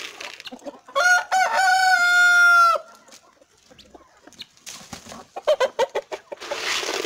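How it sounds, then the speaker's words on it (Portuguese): Free-range chickens in the late afternoon: one loud, close rooster crow stretched over a couple of seconds, followed by a run of quick clucks and rustling. "Galinha caipira é assim mesmo"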